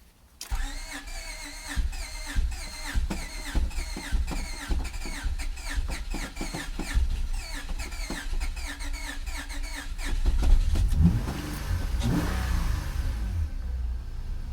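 A 2005 Acura TL A-Spec engine cranks with rapid rhythmic starter chugging, then catches and rumbles into a rough, whining idle, close and loud.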